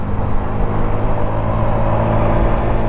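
A Honda Navi scooter engine whines and drones as it accelerates away, a loud, close, continuous sound with a low rumble underneath and no talking.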